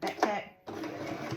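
Sewing machine stitching elastic into a pair of shorts, a close steady mechanical whirr that starts briefly, pauses for a moment, then resumes and runs continuously.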